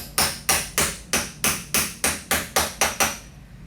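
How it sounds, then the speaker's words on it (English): Ten evenly spaced, sharp metallic taps as a bearing is driven into a pulley, each strike loud and close with a short ringing decay, steady rhythm and no talking. "you're going to gently just kind of tap it in place"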